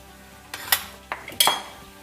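A spoon scrapes and clinks against a pan while paneer sabzi with garam masala is gently mixed. Four short, separate metallic knocks land over about two seconds, close by and fairly quiet, with no talking.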